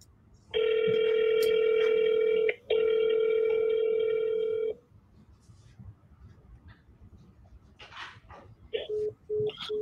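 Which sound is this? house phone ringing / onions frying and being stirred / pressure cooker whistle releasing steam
house phone ringing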